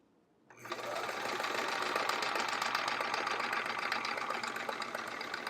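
A sewing machine runs steadily, stitching the binding onto a Splendid Sampler quilt with a fast, even motor whir that starts abruptly and holds close and loud with no talking.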